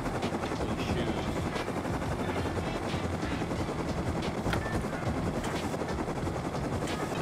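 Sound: helicopter in the video game Rust

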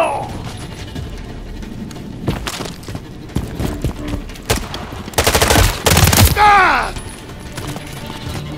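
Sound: gunfire from enemies in Call of Duty MW3 video game

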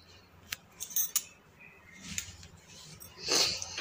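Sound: knife chopping onion into rough large pieces

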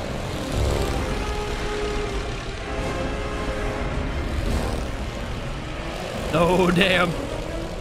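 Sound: propeller warplanes flying in a Godzilla vs Kong fan video game

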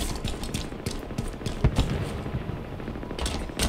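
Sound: Warthog machine gun firing in video game Halo Infinite

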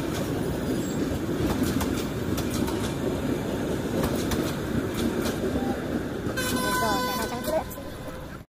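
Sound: train passing by

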